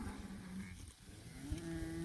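Cattle from a cow herd in a grazing paddock low and moo, faint, drawn-out calls at a distance over steady wind-like background noise, with no talk.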